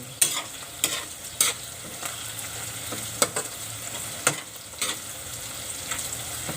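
Sautéed onions frying and being stirred in a pan, with a steady low sizzle and scattered sharp scraping clicks of the utensil against the pan, fairly close and without talk.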